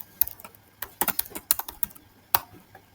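Irregular clicky keystrokes on a computer keyboard as a git config email setting is entered, close and crisp with short pauses between bursts and one sharper key strike near the end.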